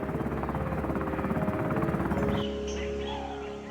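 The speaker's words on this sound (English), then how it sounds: "the helicopter departs" Military helicopter lifting off in dense jungle, rotor blades thudding in a rapid steady chop near and loud before cutting away abruptly to quieter jungle ambience.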